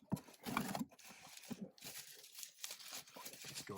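Bubble wrap being pulled and unwrapped from a package, giving a close run of crinkly tearing and rustling bursts that rise and fall over several seconds.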